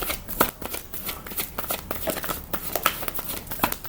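Angel Blessing tarot cards are shuffled by hand, a close, soft run of riffling slaps and papery flutters repeating in quick uneven bursts without any talk.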